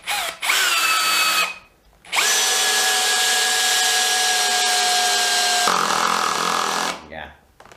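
A Hitachi DV18DBFL2 cordless drill runs at low speed driving screws, with a loud steady whine in two long bursts, the second stepping down in pitch partway through before stopping.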